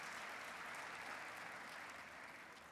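A large gala crowd of about 950 people applauds, a dense, even wash of clapping that fills the room steadily and tapers slightly at the end.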